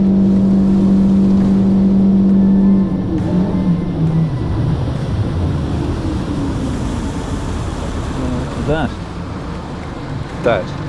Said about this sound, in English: That is the sound of fuel starvation.